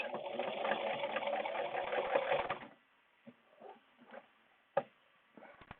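Sewing machine stitching a reusable mask with a HEPA filter insert, running in a steady fast whir for about two and a half seconds, then stopping, leaving a few quiet clicks and handling taps.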